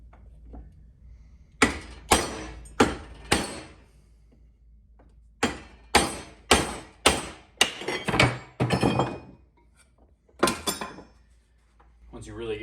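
Heavy blows strike a wooden workbench in two rapid bursts of about five and six hard thuds, followed by a few scattered knocks as loose items rattle and fall, fairly close and loud.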